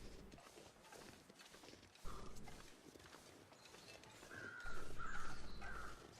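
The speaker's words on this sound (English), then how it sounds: "there's the schoolhouse crows" Crows caw near a schoolhouse in the video game The Long Dark, a few harsh calls from a short distance over a steady outdoor wind, the loudest burst near the end.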